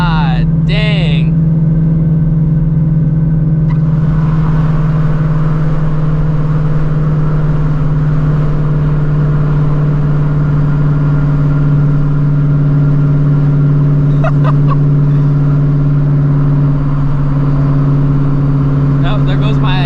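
A 900hp Shelby GT350 accelerating hard from inside the cabin, a steady loud droning engine tone through the gear change from second to third, with a person briefly talking over it.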